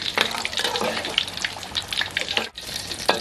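A crab omelette frying in oil over high heat, crackling and sizzling steadily up close with a brief dip in the noise near the end.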